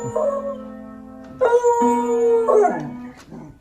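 A beagle lets out a drawn, rising and falling howl in two long phrases over a held tone, ending in a short yip, loud and close with no talking.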